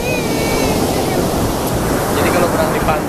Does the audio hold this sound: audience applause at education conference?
no